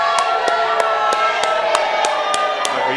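A wrestling crowd makes a dense, loud roar throughout a tag-team match, punctuated by sharp, evenly spaced rhythmic claps or stomps about three times per second.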